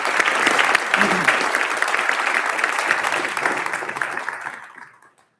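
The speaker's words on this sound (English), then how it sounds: "Please, if everybody can include me in an applause for them." Audience applause at a township council meeting, a steady dense clapping from a seated crowd that holds for about four seconds and then fades out, with a few faint voices underneath.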